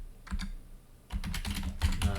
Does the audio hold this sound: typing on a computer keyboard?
yes